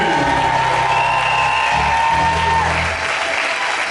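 A church congregation applauds at an Easter service. Steady, loud clapping from many hands carries on for several seconds, with a few voices mixed in.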